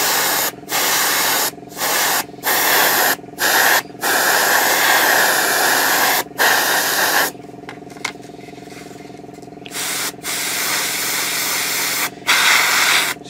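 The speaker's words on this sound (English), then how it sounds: "I'm just laying the paint down in a couple of even coats." An airbrush sprays paint onto a 1/35 Takom Chieftain Mk 10 model tank in repeated hissing bursts, each a steady close spray broken by short silent gaps, with one longer pause partway through.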